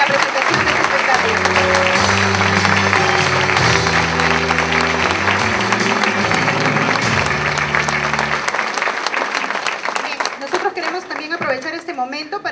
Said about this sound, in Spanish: Un fuerte aplauso, por favor, para todos los coros